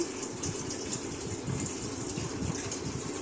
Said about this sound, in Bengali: প্রথমে ওভেনে আমি একটা জায়গায় একটু জল দিয়ে দেব।